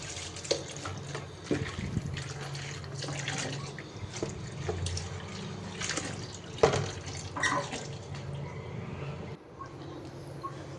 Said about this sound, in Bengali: এখন শাকটা আমি ধুয়ে নিব